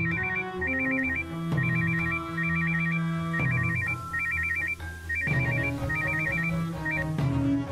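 A telephone rings continuously in a home scene of a Marathi thriller TV serial, with a repeating electronic ringtone melody looping several times, steady and loud with no speech.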